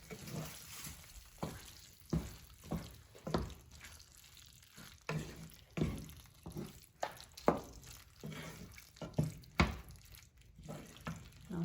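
Spanish rice and chicken stirred in a pan, soft scraping and shuffling strokes repeating irregularly over a quiet low sizzle, fairly faint and close.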